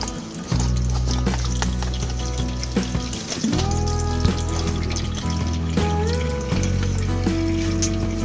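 Water gushes into the container of a deep flow technique hydroponic system, a continuous splashing pour with gurgling and trickling that carries on loudly throughout, no voices over it.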